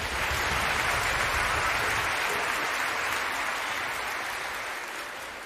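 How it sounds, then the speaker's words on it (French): An audience applauds with steady, dense clapping that holds evenly and then slowly tapers off toward the end, with no voices on top. "On peut l'applaudir"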